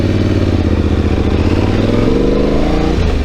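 A motorcycle being ridden on a camping trip, its engine droning loud and close with a steady, slightly rising pitch and a rattling clatter underneath, no voices.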